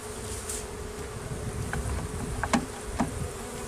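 Honeybees crawl over frames lifted from a weak hive during an inspection, giving a faint, soft buzzing hum with a few brief, louder wingbeat bursts near the end.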